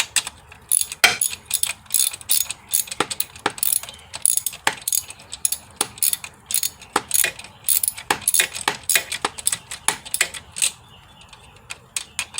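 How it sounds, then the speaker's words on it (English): A ratchet tightens a bolt while an alternator is being replaced on a 2007 Ford Mustang with a 4.0 V6, heard as loud, close bursts of rapid clicking with short pauses between strokes and no talk. "Let's tighten this guy down right here."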